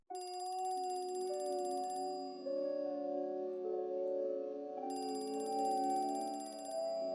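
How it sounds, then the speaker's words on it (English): A phone ringtone plays a bright, tinkling electronic melody in repeating phrases, clear and alone with no voices. "The ringing phone became a source of both hope and dread"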